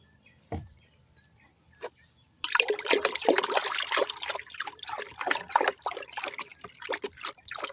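Liquid fertilizer mix for chili plants poured into a container, a close trickling splash that starts abruptly after a few faint knocks and continues unevenly to the end.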